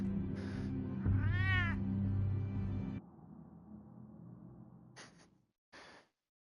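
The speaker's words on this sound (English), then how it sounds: "The cat's on the bed too." A cat in Batman: The Telltale Series gives a couple of clear, close meows, a drawn-out rising call followed by a quieter trailing mew, over a low game ambience that drops away near the end.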